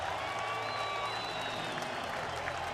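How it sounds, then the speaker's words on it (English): A World Baseball Classic stadium crowd, Dominican Republic facing Venezuela, applauds Santana, a broad, steady roar of clapping and cheering from far across the park, with a commentator's voice faintly over it. "listen to the applause for Santana"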